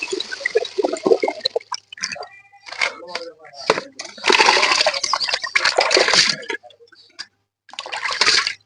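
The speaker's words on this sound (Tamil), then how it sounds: "சூப்பரா கழுவியாச்சு. இன்னும் கழுவணும். உப்பு போட்டு கழுவணும்." Seafood is rinsed by hand in water before a salt wash, with close splashing, dripping and sloshing in uneven bursts and brief quiet gaps. A voice talks at times over the water.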